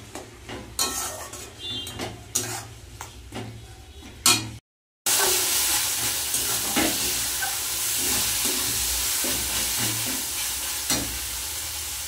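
Spices with softened tomato and fried onion sauté in a pan for a fish curry, starting with scraping stirs and utensil clatter, then after a brief cut a steady loud sizzle with intermittent stirring scrapes, close up, no speech.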